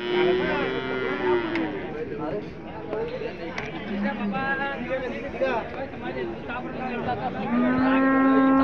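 Malwa cow at the Vadod cattle market, with several long, low moos rising and falling amid continuous crowd chatter and people talking nearby.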